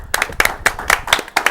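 Brief burst of hand clapping at a Christmas show, a handful of people clapping in a quick irregular rhythm, close and fairly loud.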